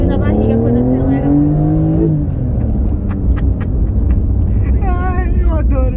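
A Porsche accelerates hard with a loud, close engine roar rising in pitch for about two seconds, then settles while people talk inside the car.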